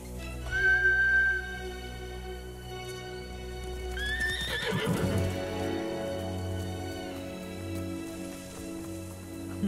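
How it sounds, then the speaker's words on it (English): Horses in the video game Ghost of Tsushima whinny loudly, a high neigh early on and another mid-clip, followed by hooves clip-clopping and rustling against a steady ambient background with light rain. "Bastards scared off the horses."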